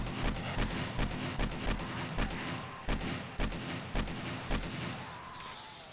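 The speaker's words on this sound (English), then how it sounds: "We'll get better, more accurate with our shooting." Rapid bursts of gunfire from the zombie survival game 7 Days to Die, a snowfall horde night in Alpha 15, with repeated loud shots in an uneven rhythm over a steady noisy backdrop.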